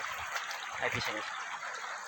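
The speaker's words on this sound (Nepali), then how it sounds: "यहाँ म खोलामा आइपुगेको छु" A mountain stream in Nepal rushes in a steady, broad wash of flowing water throughout, with someone speaking briefly over it.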